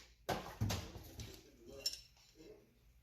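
Metal tire spoons clanking as they are picked up and handled before mounting a car tire on a rim, a few sharp metallic clinks followed by quieter rattles.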